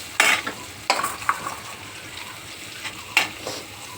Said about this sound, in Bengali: এই যে শাক ভাজাটা বসাবো, রসুন আর কাঁচা লঙ্কা।